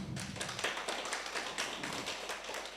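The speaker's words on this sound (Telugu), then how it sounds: "ఈ పైమా క్లాసుకు కూడా క్లాప్స్ కొట్టాలి." An audience at a PYMA meditation class claps hands in a steady, fairly quick rhythm, a sustained round of many overlapping claps at moderate distance, with no talk over it.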